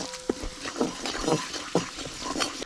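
Spices roasting with garlic in a pan for a chicken and drumstick dish, heard as a few close scrapes and stirring knocks over a faint low sizzle, with one short clink.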